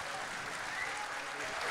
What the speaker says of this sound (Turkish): Haydi bakalım Osman Efe, o güzel alkışlarla gönderiyoruz.